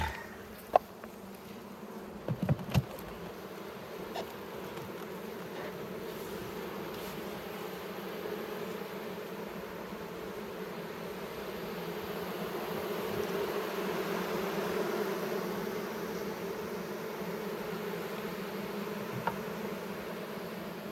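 A swarm of honey bees hums around a hive in a steady, dense drone that swells louder toward the middle, with a few sharp knocks early on and brief faint talk.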